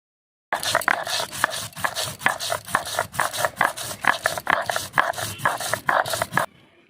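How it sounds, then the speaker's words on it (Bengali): Whole coriander seeds are being ground into a paste for a goat meat curry, heard as close, rhythmic scraping strokes repeating about twice a second, each a short gritty burst, stopping suddenly near the end. "একটু গোটা ধনিয়া বেটে নিব।"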